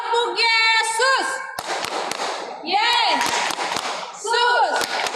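Children clapping during a Sunday school service held over Zoom, a few sharp separate claps between bursts of sung and chanted voices.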